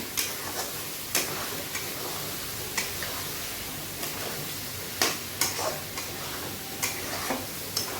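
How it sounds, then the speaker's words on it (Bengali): Spice paste for chicken curry sizzles and crackles in a hot pan, with a steady frying hiss broken by intermittent sharp ticks and scrapes of stirring. "মশলাটা কষে নেব, তাহলে এটা ভালো করে আমি কষে নিই"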